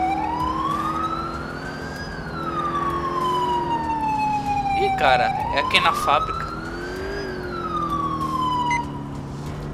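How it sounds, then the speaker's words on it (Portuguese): A police car siren in the video game GTA IV wails in long rising and falling sweeps, loud and continuous, while someone talks over it. "Desligar a sirene."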